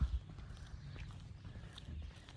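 Horses walk past with soft, irregular hoof clops, faint and somewhat distant, over low background noise.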